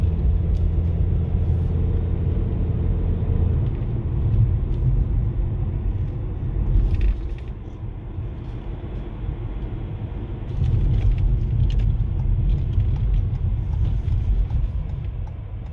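A Toyota C-HR hybrid pulls up a steep hill under acceleration, with a steady low engine and road rumble throughout that dips briefly mid-way and then swells again, heard from inside the car.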